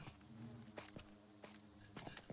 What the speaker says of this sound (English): I still hear bees.